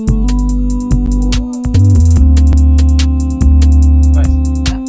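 Hip-hop loop of a sung or melodic vocal line pitch-corrected with heavy auto-tune to A minor, made in Soundtrap, with loud sustained bass and a steady repeating beat of sharp percussive hits running throughout.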